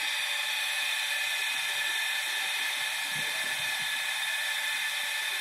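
Water tank pump on an urban farming setup, running with a steady high electric whine and hum, constant and unbroken throughout, with no talk.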